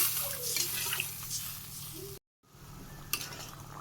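Potatoes cooking with jaggery in a pot give off a quiet, close bubbling sizzle with faint stirring and clinks, broken by a brief gap of silence partway through.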